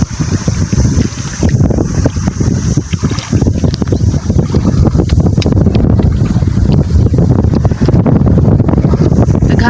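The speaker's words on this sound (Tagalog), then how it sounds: "yung hangin nakakalusot dyan sa pagitan ng dalawang bundok na ito" Strong wind funneling between two mountains roars continuously, buffeting the microphone with loud, gusty rumbling throughout.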